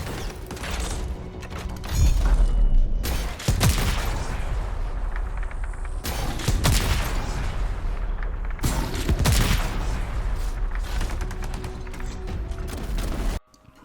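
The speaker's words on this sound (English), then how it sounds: "to see the giant siege cannon, let's go ahead and get it going" Colossus Javelin siege cannon firing in the game Anthem, heavy booming blasts at roughly three-second intervals over a dense, continuous roar of battle noise and rumble, loud and near.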